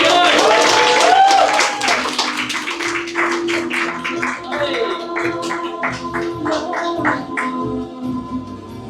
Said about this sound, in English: let's give a round of applause to Ross